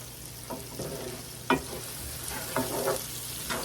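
Food cooking in a pan, a steady close sizzle with a few soft scrapes and stirring knocks scattered through it, moderate in level and with no talk.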